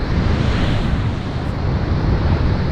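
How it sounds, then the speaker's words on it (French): Ocean waves about 2.5 metres high break on the shore, a dense, continuous roar of surf mixed with wind buffeting the microphone, steady and loud with no talk. "Aujourd'hui il y a à peu près 2 mètres, 2 mètres 50 de vagues"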